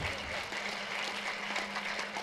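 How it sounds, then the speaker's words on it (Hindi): Audience applause fills the hall at an Urdu drama opening event, steady dense clapping throughout with no speech over it. "उन लोगों के लिए एक बार जोरदार तालियां बजाइए आप।"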